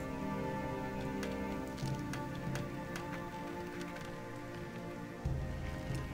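Steady rain falls in the video game Gothic 2, a dense, continuous hiss of drops on surfaces with a few brief louder spatters and low rumbling ambience beneath, no voices.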